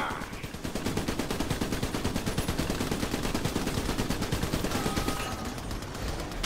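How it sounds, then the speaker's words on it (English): Rapid enemy gunfire fills the Xbox game Trenched as a dense, steady stream of loud automatic shots lasting several seconds. "I'm getting shot at"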